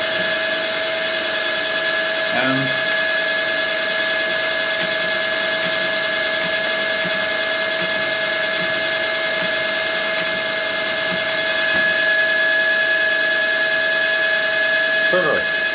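A twist drill held short in an ER16 chuck on a lathe cuts metal with cutting oil while parts for a Simplex steam engine are made, giving a loud, steady, high machining whine that runs unbroken through the clip.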